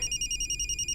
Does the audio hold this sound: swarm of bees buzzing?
no